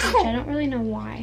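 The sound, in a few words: sneeze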